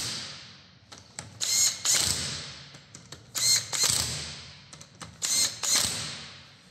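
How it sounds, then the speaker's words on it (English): A hand ratchet snugs up the wheel bolts on a Fiat 500L during a brake pad job, giving several bursts of quick clicking strokes with short pauses between them, close to the microphone. "We can snug up them wheel bolts."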